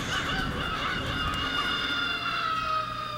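Crows and chickens squawk in the intro of the Billy Hatcher and the Giant Egg video game, with honking, overlapping bird calls over a busy, steady game soundtrack.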